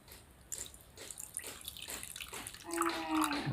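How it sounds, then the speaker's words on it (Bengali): Water poured from a vessel onto tamarind in a bowl, a soft splashing and trickling pour that swells toward the end, close and fairly quiet with no talking. "এবারে জল দিলাম"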